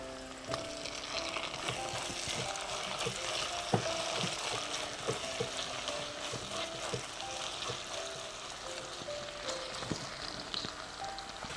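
A seeded chopped tomato fries with green chillies in a pan, a continuous dense sizzle with scattered light taps and scrapes of stirring, close and fairly even throughout.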